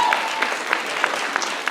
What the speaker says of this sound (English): please make a round of applause for everybody.